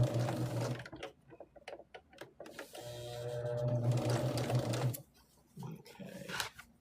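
A domestic sewing machine stitching quilt pieces, running in short rapid whirring bursts, then one longer steady run before it stops and starts again briefly, close and clear with no talk.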